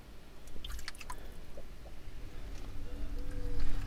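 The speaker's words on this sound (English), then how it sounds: "The water is just washing everything off." Water washes over old glass bottles and containers in an underground train station vault, with wet dripping, splashing and squishy sloshing up close, irregular and fairly faint.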